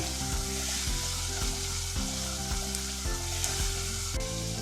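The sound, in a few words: frying spice mix with cumin and black pepper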